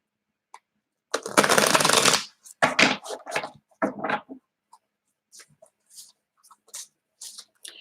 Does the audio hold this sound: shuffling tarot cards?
yes